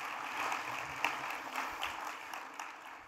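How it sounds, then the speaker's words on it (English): Scattered clapping from a conference audience at welcome remarks, with sparse individual claps at moderate distance over a low room murmur. "deserves an applause"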